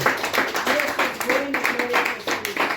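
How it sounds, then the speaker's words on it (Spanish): Church congregation clapping hands together as an offering of praise, a steady rhythmic patter of many palms over a sung or spoken voice and musical tones. "Una ofrenda de palmas al Señor."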